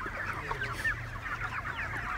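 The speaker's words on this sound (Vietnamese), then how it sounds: "Rồi, ở đây cái bầy gà bên đây thì nó nhiều gà trống hơn nữa." A dense flock of three-month-old chickens with many roosters clucks and squawks continuously at close range on a farm, overlapping calls forming a busy chatter over a low background hum.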